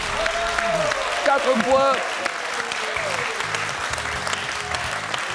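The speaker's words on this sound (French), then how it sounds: "Très applaudis par toute la salle" A large quiz show hall audience of thousands applauds steadily, the broad clapping wash running under a host's voice calling out the score.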